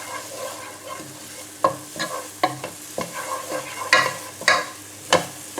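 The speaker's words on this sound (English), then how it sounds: "we're going to switch from a wooden spoon to a whisk and slowly incorporate the milk" Milk is gradually whisked into a flour roux for a classic fish pie, with a soft continuous sizzle broken by sharp metallic taps and scrapes of the whisk against the pan at an irregular pace.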